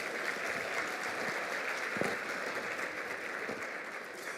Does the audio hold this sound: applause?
yes